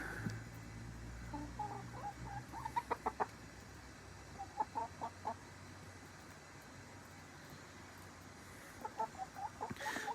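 Chickens clucking in short bursts at a moderate distance, with quieter periods between them against a low background hum.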